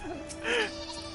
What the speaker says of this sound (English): Follow that sheep.